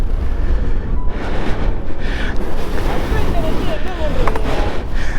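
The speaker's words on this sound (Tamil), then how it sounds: "அப்படி காற்று அடிக்குது, கீழே சாஞ்சி விழுந்துரும்" Strong wind gusting across a hilltop viewpoint at Parunthumpara, Kerala, roaring and buffeting the microphone in a loud, continuous rush, with faint voices underneath.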